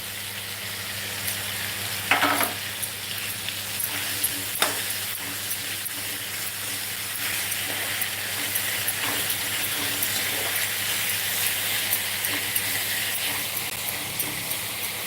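Ginger garlic paste sautéing in a pan with cashews and almonds, giving a steady close sizzle and hiss with a few stirring clinks and scrapes, no one speaking.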